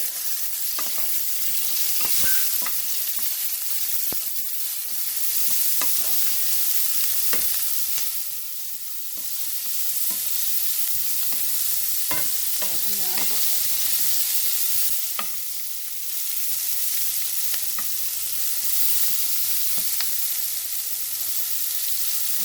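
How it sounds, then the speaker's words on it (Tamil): Sliced onions and green chillies sauté in oil for an egg masala, a soft continuous sizzle broken by scraping stirs of a spoon against the pan, moderately quiet with no talking. "வெங்காயத்தையும் பச்சை மிளகாயையும் இதை நாங்கள் இது ஒரு புண்ணிலமாக வதங்க விடுவோம்"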